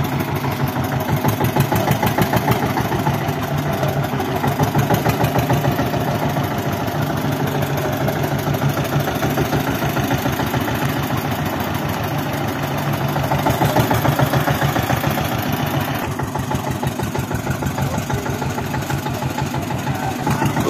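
Eicher tractor engine idling on a farm, a loud, close diesel chug with a fast steady pulsing rhythm and constant vibration lasting the whole stretch, no speech over it.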